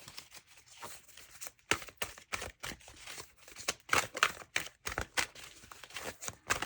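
Large tarot cards are shuffled by hand, giving a quick series of close, crisp riffling and slapping bursts in an irregular rhythm.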